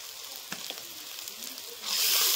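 Turmeric and chili powder fry with a fish curry base in a pan for sitapati fish jhal: a soft sizzle with a few faint stirring taps, then a sudden louder, bright hiss that swells near the end, with no talk.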